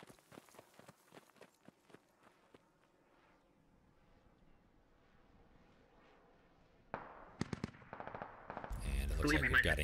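Gunfire during an engagement in the Squad video game: a quick burst of distant automatic shots early on, quieter footsteps and movement, then louder close rapid firing building up toward the end.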